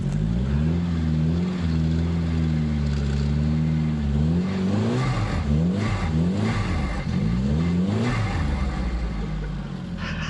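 A car engine revs hard and steadily while its tires spin and smoke against a pallet, the pitch rising and falling in long sweeping waves, loud and close throughout with a rougher, clattering stretch in the second half.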